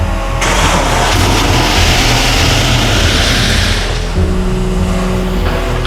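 A rebuilt Nissan GQ Patrol engine cranks and fires into a loud, rough run with a burst of broadband noise, settling into a lower idle near the end, heard up close with no talking.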